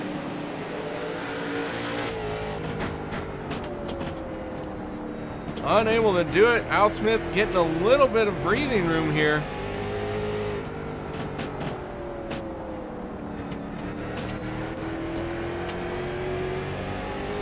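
Race cars circling an oval in the closing laps of a late-model broadcast, engines droning steadily under continuous commentary, with a louder, closer surge of revving cars passing for a few seconds midway.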